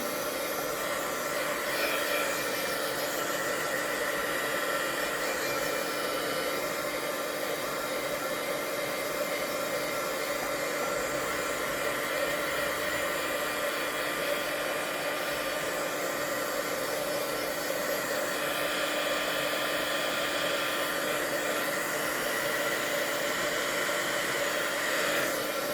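A handheld heat tool blowing steadily over wet paint on a mixed media collage, a constant even whooshing drone at moderate level for the whole stretch with no pauses and no talk.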